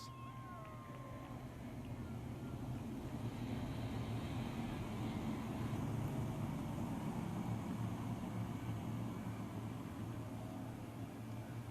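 Big block modified dirt track race cars from the Super DIRTcar Series at the DIRTcar Nationals produce a continuous low engine roar. The drone is faint and distant and holds steady throughout.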